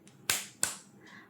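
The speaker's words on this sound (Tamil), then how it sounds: "கைத்தட்டி சொல்லலாமா?" Two sharp, close hand claps spaced about a third of a second apart, alone in a quiet room during a children's Tamil family-words lesson.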